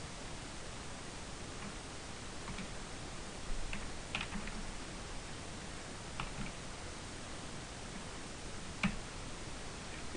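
Sparse, faint keystrokes of a command being typed on a computer keyboard, a handful of soft ticks spread out over a constant hiss.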